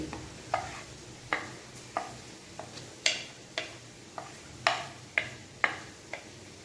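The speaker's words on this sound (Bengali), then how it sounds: "একটু নেড়ে নিচ্ছি" A spoon stirs mutton curry in a pan after cumin powder goes in, a regular series of sharp taps and scrapes against the pan over a faint low sizzle, close and clear.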